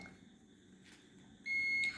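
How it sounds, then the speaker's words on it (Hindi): A digital multimeter set to buzzer continuity mode, probing a charging circuit's adapter DC jack against ground, gives one clear, shrill electronic beep lasting about half a second after a quiet stretch. "सबसे पहले आपको सेट करना है मल्टीमीटर को बजर मोड पे"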